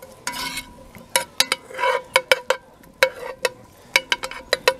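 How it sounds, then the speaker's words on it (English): Onions brown in oil in a pan over a campfire at a camp site: sharp, irregular utensil scrapes and clicks against the pan over a faint, low sizzle. "We first to brown the onions."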